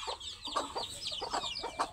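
A mother hen clucks in repeated short bursts beside her newly hatched chicks, whose faint high peeping runs underneath, all close by and fairly quiet, with no talking.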